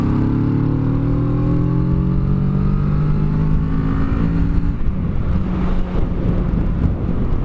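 A 2017 Kawasaki Z650 (A2-restricted) motorcycle accelerates on a highway, engine note climbing through gears in rising tones over steady wind rush, with a shift and a rougher, noisier stretch in the second half.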